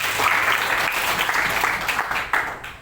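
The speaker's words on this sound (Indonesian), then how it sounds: "Oke, tepuk tangan." Students in a middle school classroom clap together, a dense, moderately loud round of applause that tapers off near the end.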